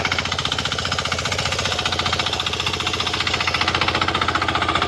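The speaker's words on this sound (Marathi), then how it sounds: "ट्रॅक्टर मी चालवतलं" A tractor engine runs steadily in a farm field, its loud rapid thumping pulse continuous and close throughout, with a strong low rumble and no speech.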